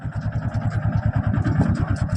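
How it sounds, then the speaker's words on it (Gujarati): A farm tractor engine chugs steadily on a track near a groundnut threshing site, its close, even low-pitched pulses running throughout without talk. "આ માર્ગે ટ્રેક્ટર આવે છે"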